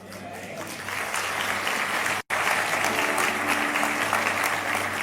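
Audience applauding at a Christian motivational talk: steady, dense clapping from a large crowd fills the whole stretch, with a brief cut near the middle and faint low tones underneath.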